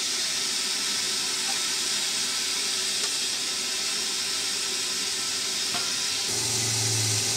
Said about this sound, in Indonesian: Saya sudah panaskan kukusan ya